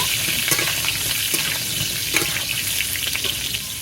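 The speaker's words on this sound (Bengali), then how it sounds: "পটলগুলো ভালো করে একটু ভেজে নেব" Pointed gourd pieces frying in oil in a kadai for village-style cooking, an even hissing sizzle with faint intermittent stirring clicks, steady and close throughout.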